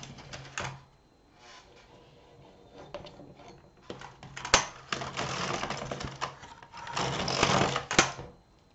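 A domestic knitting machine carriage is pushed across the needle bed to knit two rows, giving bursts of clattering, rattling mechanical noise separated by short pauses, close and fairly loud, with no talk.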